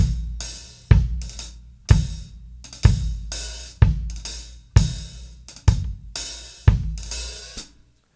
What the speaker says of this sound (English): What I'm doing is slightly opening the hi-hat to get a little bit of a sizzle effect.